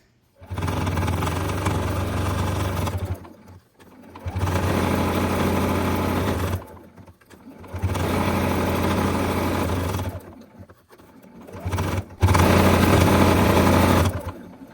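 A sewing machine runs in four steady bursts as it top stitches around a small fabric four patch coaster, a close, loud, even motor whir with short pauses between the runs and no talk.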